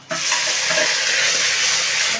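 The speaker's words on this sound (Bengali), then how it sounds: "গোটা গরম মশলা ফোড়ন দিয়ে দিলাম" Steady, loud sizzling of whole garam masala spices frying in hot oil, a continuous hiss that runs the full length with no voices.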